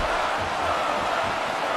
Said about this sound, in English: The crowd showing their support for Mirko Cro.